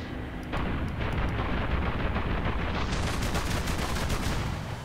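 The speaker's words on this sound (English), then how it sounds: "that's a lot of AA guns" Anti-aircraft guns fire in the War Thunder combat video game, a dense, continuous barrage of rapid shots and booms filling the whole few seconds, loud and unbroken, with no voices.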